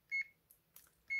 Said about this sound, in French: ça, c'est ma caméra qui est en train de biper